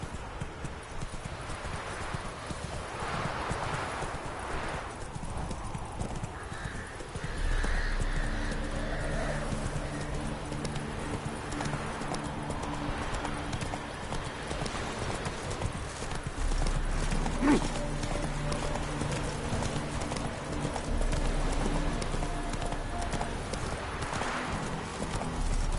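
Horse hooves clip-clop steadily in a PS4 video game, with a rhythmic trot that quickens partway through, occasional whinnies and game ambience underneath.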